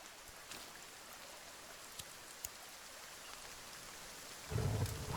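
Rainfall in the survival video game The Forest: a steady, soft hiss with a few faint ticks of drops, ending in a low rumbling swell.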